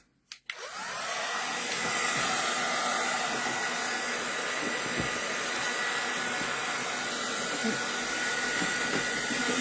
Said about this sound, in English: Give this another blast with the heat gun.